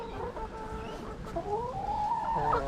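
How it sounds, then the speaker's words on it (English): Hens clucking in a backyard garden in Melbourne, several birds giving soft, rising and falling clucks and drawn-out murmurs close by, continuous over a low outdoor background. "if I can get around the chickens. Come on girls."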